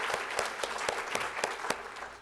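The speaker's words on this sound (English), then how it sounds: "how about a big round of applause for our panelists and our moderators today?" An audience at an aerospace and aviation forum claps for panelists and moderators, a fairly light, moderate-sized round of applause with distinct individual claps.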